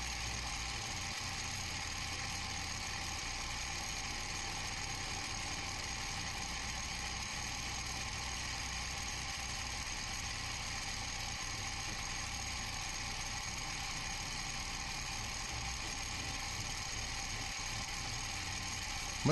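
A milling machine runs a cutting pass along the x-axis into a metal die, giving a steady, unbroken mechanical whir and hum with a grinding edge, fairly quiet and even throughout, with no voices.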